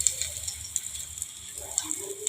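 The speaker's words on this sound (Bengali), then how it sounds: "একটু কম আঁচ করে ভাজতে হবে, তাহলে সমানভাবে ভাজাটা হবে" Soya tikka fries in a pan over low heat, giving a soft continuous sizzle with small crackling pops scattered through it, fairly quiet and close.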